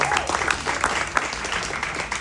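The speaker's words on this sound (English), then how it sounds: "round of applause is all good" Steady audience applause from a crowd at an interview event, a dense patter of many hands clapping throughout at fairly close range, with no talking over it.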